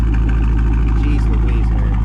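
A 2021 Dodge Charger Daytona 392 V8 idles up close and loud, a steady deep rumble with a fast even pulse throughout.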